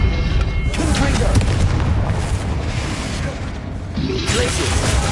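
Explosive spell blasts and combat effects in Hogwarts Legacy, heavy booming bursts and rumbling impacts layered loud and close, with a voice talking over them.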